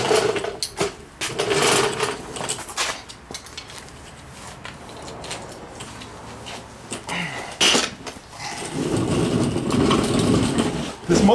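A Volkswagen bus engine with a loud abnormal noise runs nearby, a continuous rough clattering drone broken by sharp knocks and bangs, growing denser and louder toward the end.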